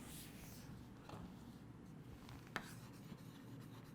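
Faint chalk or marker strokes on a board during a physics lesson, a few soft scratchy scrapes with one sharper tap, low under quiet room noise.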